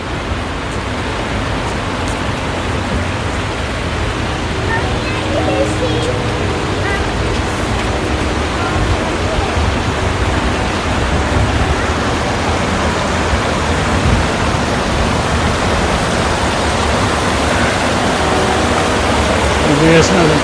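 Creek water rushes steadily outdoors on a busy day, a dense, constant broadband wash that stays loud and even throughout, with faint scattered background activity beneath it.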